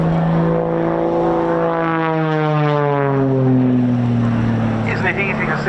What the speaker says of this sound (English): Melanie brings the extra 330 into effectively a hover, very nose high